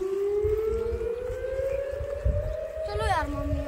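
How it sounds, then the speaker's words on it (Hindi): A dam warning siren wails with a long, slowly rising tone at a riverside campsite, steady and prominent over faint background noise and a brief voice near the end. "एक सायरन बजा है अभी ना।"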